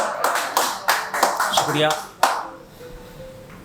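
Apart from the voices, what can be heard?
weak applause from audience at poetry recital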